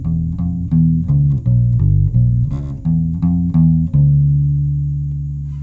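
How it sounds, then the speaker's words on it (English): An electric guitar strung with flatwound strings plays a short low-register phrase, a dozen or so round, muted plucked notes in a steady rhythm, finishing on a single note left to ring and fade, clear and alone. "Chris is going to start first with the flat wound strings."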